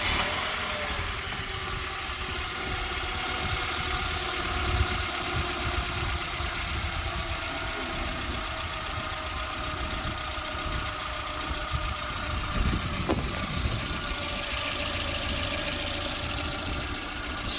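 Car engine idling smoothly just after starting, a low steady hum with a faint mechanical tick, even and moderately quiet for the whole stretch with no talk.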